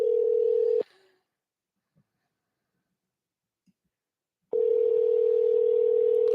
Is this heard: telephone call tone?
yes